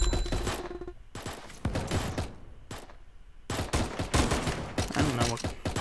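Sniper tower gunfire in the Roblox game Tower Defense Simulator, with bursts of loud, sharp shots arriving in irregular clusters separated by brief lulls, occasional rapid volleys, and faint talk underneath.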